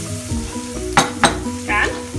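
Beans and potato dish, seasoned with chili flakes and lemon, stirred in a pan: a low steady sizzle with a few sharp scraping strokes and a clink of the spoon, close by, no voices.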